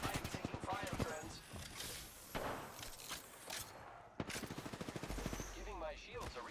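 Rapid automatic gunfire in a video game, dense rattling bursts close and loud with short pauses between strings, and game voice lines spoken over parts of it.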